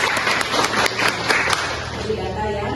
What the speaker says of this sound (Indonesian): Tepuk tangan untuk Ciko.